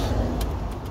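Hyundai ix35 car with its engine idling, a steady low rumble held close and continuous throughout, with no voices over it.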